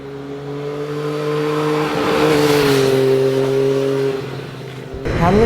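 A 2017 Triumph Daytona 675 motorcycle on its stock exhaust revs loudly and close by. The engine tone climbs and holds, dips, then rises sharply again at the end.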